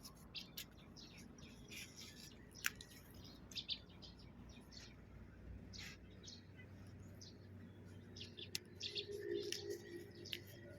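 Scattered, faint bird chirps sound from a distance in late morning beside a long bean plot, with short tweets popping up irregularly over a soft outdoor background.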